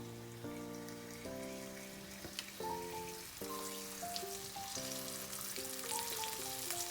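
A whole bangamary fish fries in hot oil with a continuous hissing sizzle, heard under a louder melodic music track with steady plucked chords throughout.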